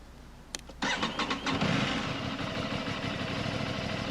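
An Aprilia RS 660 motorcycle engine with a new UpMap tune cranks briefly, fires up, and settles into a steady, even idle that continues to the end.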